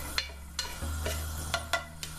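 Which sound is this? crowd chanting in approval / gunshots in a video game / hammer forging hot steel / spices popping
spices popping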